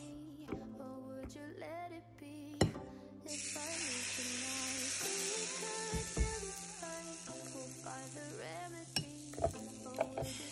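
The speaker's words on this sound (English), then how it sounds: "So now I've got the chaffles cooking up" Keto chaffles cooking, with stirring and sizzling frying sounds, clinks and knocks of utensils, and a steady hiss that rises midway, heard close up with no voices.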